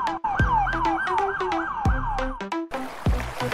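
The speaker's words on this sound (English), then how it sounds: "A is for ambulance." An ambulance siren wails in quick, repeated falling sweeps over a light plucked musical backing, loud and close, with a brief break near the end.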